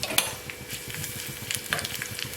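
Unpeeled garlic cloves hit hot oil in a frying pan for greens kadaiyal, giving a close, continuous crackling sizzle with small pops and stirring scrapes. No one talks.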